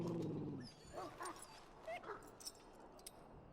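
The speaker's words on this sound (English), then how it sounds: "Now I can treat the dog properly, poor fella." A dog in the Dragon Age: Origins fantasy role-playing game gives a short whine at the start, then a few soft yips and whimpers, fairly close, over a low background.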